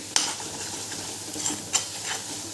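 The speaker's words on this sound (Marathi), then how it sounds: "हे मसाले मिक्स करूया" A spoon scrapes and stirs spices with salt in a pan over a soft sizzle, with a few light metallic clinks spaced apart.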